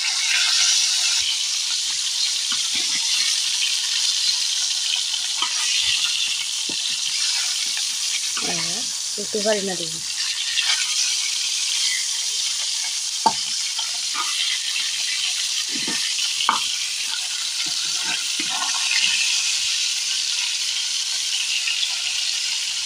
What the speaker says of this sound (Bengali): তো আমার অর্ধেক মাছ ভাজা হয়ে গেছে এইটা, তারপর একটু পরে বড় মাছের মাথাটা ভাজা বসাবো